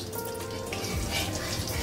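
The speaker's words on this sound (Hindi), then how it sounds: "इनको हम थोड़ी देर अच्छी तरह से फ्राई हो जाने देंगे।" Whole spices (cardamom, cinnamon stick, four or five cloves, black peppercorns and mace) fry in hot oil for a desi chicken curry, giving a steady, close sizzling hiss with faint crackles throughout.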